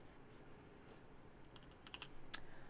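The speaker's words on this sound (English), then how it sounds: "So I'm using my arrow keys." Soft, quiet clicks of arrow keys on a computer keyboard at a desk while animating in Krita, a few scattered taps building to a closer cluster near the end.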